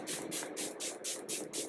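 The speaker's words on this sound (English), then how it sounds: "I'm going to be using the Mars Seal the Deal Makeup Fixer." Mars Seal the Deal makeup setting spray misting in a quick series of about seven soft, close hissing bursts with short gaps between them.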